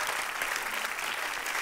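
Audience applause at a live comedy show, a dense steady wash of clapping from a crowd filling the whole short stretch.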